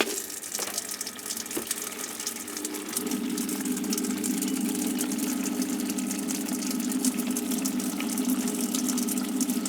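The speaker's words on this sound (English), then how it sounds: "I'm glad I'm doing this outside because there is a bit of splashing." Water from a Bucket Blaster jet sprays into a brewery jug outdoors, a steady rushing, splashing hiss with a motor-like hum that thickens after the first few seconds and continues to the end.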